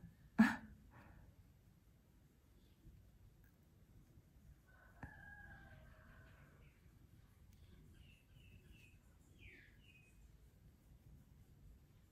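A bird outside a window during a quiet indoor colouring session: one sharp call near the start, then faint, scattered chirps and short trills later over a soft room hum.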